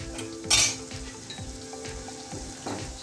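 Salted onions for a ridge gourd curry fry in a pan with a bright, continuous sizzle, punctuated by spoon scrapes and a sharp metallic clatter early on, heard up close without speech.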